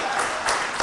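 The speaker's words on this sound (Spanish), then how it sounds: "¿Le puedes dar un aplauso al Señor?" Brief burst of congregation applause at a Bible study worship service, a dense wash of clapping heard for under a second, fairly loud and steady.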